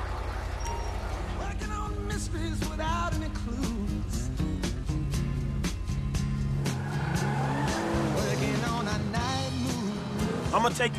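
A car in Grand Theft Auto V is driven hard, its engine revving and shifting while the tires squeal in long skids, and game characters talk over the driving.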